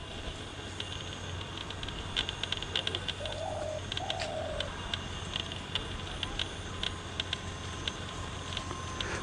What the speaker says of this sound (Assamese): আৰু আগত গ'লে চৰাই চিৰিকটি আছে